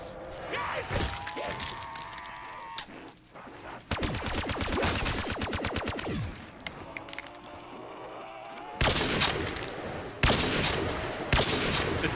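Man-o-War rifle firing in Black Ops 3 Zombies on a custom map, a long dense volley of rapid shots in the middle followed by heavier single blasts, with game effects and brief voices between.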